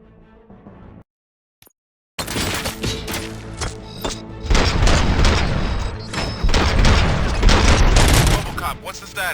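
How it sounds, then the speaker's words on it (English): Heavy gunfire in the video game RoboCop: Rogue City, dense bursts of automatic fire and booming impacts erupting after a brief silence and growing louder, with voices heard over the fight. "Gunshots? What's going on?"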